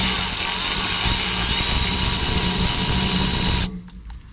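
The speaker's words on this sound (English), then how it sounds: "So now we can get off our bolts on the back side of our caliper here, 1 and 2. Using my ratchet, electric ratchet." Electric ratchet loosening the rear brake caliper bolts on a Silverado/Sierra pickup, a continuous close whirring buzz for several seconds that cuts off abruptly, followed by a few faint clicks.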